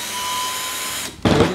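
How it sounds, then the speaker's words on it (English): A recycled 18-volt power drill running on a 12-volt battery gives a steady close whine, then cuts out briefly and restarts with a louder, rougher burst. "It's an 18-volt drill, but we hooked it up to this 12-volt battery just to see if it'd work."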